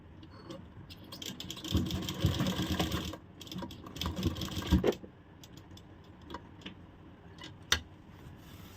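A sewing machine stitching a pocket zip, with bursts of rapid mechanical rattling and clicking that start, stop and resume, moderately close and fairly quiet, with a few isolated ticks between runs.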